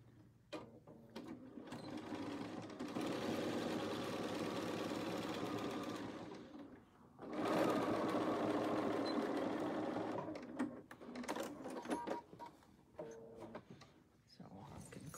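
A sewing machine back stitches the corners of a zippered box bag in two sustained whirring runs split by a brief pause, followed by clicks and handling noises as someone talks.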